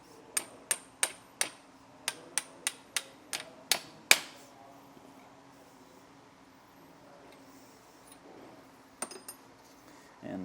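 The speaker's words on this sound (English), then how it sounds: "then you can use that to hammer the bushing in without having to worry about damaging it" Hammering a leaf spring bushing into place on a trailer, using an old bolt as a driver: about ten sharp metallic strikes in a quick, steady rhythm over four seconds, then quiet, then a couple of lighter taps near the end.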